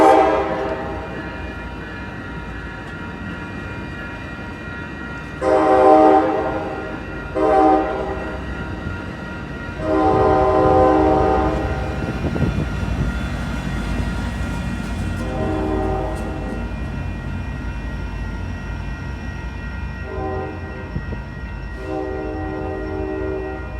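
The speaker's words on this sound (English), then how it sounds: "Here it is, Amtrak San Joaquin 712." Amtrak San Joaquin 712 pulls out southbound toward Bakersfield on the UP line, sounding several loud horn blasts in a broken pattern over steady rumbling of the passing train, with no voices.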